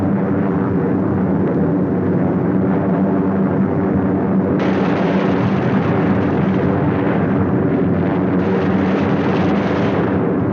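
WWII bombs exploding on Gdynia harbor during an 8th Air Force bombing raid, a dense continuous roar of blasts and rumble, loud and sustained, with a sharp surge of explosions partway through.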